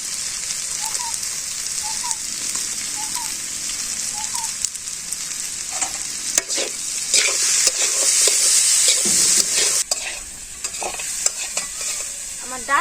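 Vegetable stems and potatoes fry with lentil powder and chili in a village kitchen, giving a constant bright sizzle with occasional scrapes and stirring clatter, close and steady, no voices.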